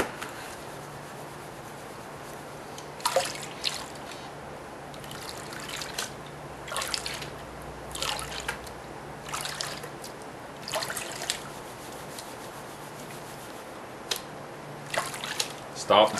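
A gold pan with water being shaken and tapped while panning for gold, with irregular sloshing, splashing bursts over a quiet outdoor background and occasional voices.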